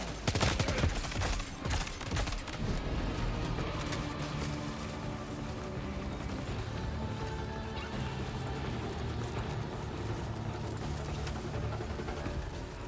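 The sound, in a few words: turret gunfire in video game Death Stranding 2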